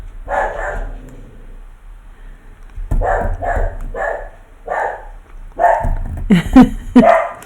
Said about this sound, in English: my puppy dog doesn't like people walking past the house